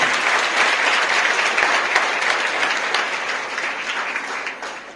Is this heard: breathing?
no